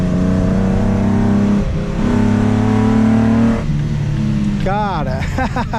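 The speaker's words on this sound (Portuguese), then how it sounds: "deu para dar uma aceleradinha aí só para curtir" A Nissan Skyline engine revs and accelerates loudly up close, its strong harmonic drone climbing and settling, with a rising whine near the end and people talking over it.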